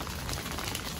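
Rain falling at night in Islamabad: a brief, dense, steady hiss of drops at moderate volume with no other sound standing out.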